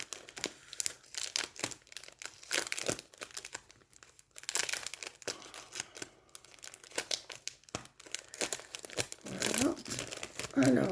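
A parcel stuck shut with double-sided tape is torn and crumpled open by hand, a close, continuous crinkling and ripping of paper and plastic, with someone talking over it.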